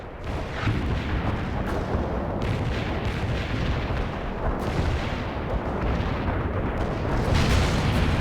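Artillery strike in World in Conflict: a dense, continuous barrage of loud overlapping explosions and booms, rumbling without pause throughout.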